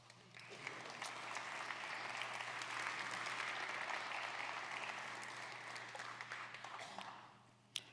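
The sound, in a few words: audience applause for conference sponsors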